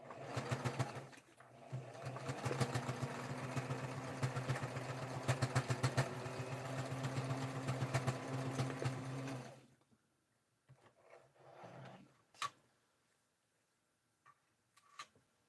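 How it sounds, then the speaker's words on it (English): Sewing machine stitching fabric on a handmade doll, a dense rapid mechanical chatter running steadily for several seconds, then stopping and giving way to a few faint handling clicks and quiet rustles. "so now I'm going to do a stitch."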